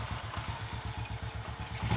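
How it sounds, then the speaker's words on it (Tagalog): Honda XRM 125 motorcycle engine running just after an overhaul, with a steady, fast rhythmic low thump and light mechanical clatter, close and continuous with no talk. "So pinandar ko lang siya para mag-circulate yung mga oil dito sa makina."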